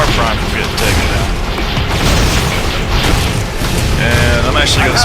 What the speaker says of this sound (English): Now I'm going to start standing down here and lobbing flak balls over the place.